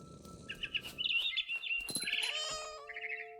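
A cat meows repeatedly, mixed with squeaky chirps, close and fairly loud over a quiet game soundscape in What Remains of Edith Finch, with one harsher cry in the middle.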